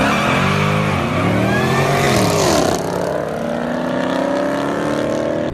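A supercharged 600 hp Camaro ZL1 engine roars loud and close, its pitch climbing and falling through revs with a dense, raspy exhaust note and supercharger whine, without talk.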